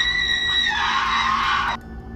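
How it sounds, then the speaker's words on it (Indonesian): A sharp scream from an Indonesian horror audio drama about a kuyang in Kalimantan, a sustained high-pitched cry lasting about a second before it cuts off abruptly over a low background. "Usir mereka dari Long Takau, Jerit Pak Paksi"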